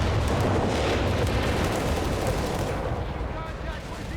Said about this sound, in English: Those new Werfer barrages, they're so overpoweringly loud, aren't they?